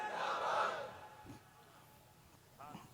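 A crowd at an Islamic religious gathering in Hyderabad roars a slogan in unison, a loud swell of many voices for the first second that fades, followed by a brief shorter answering shout near the end.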